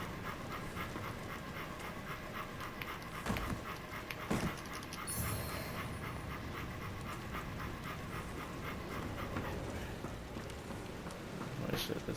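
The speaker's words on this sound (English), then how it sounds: "this dog is breathing" Heavy, rhythmic panting of a dog in the video game Lords of the Fallen, quick repeated breaths running steadily and fairly faint under game ambience, with a few brief knocks along the way.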